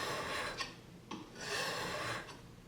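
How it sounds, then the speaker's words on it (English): Steel chisel back being lapped flat on a synthetic sharpening stone: a soft, gritty rasp of rubbing strokes, a few back-and-forth passes with brief scrapes between, close and fairly quiet. "Right here I'm lapping it on a natural stone. I'm sorry, that's a synthetic stone"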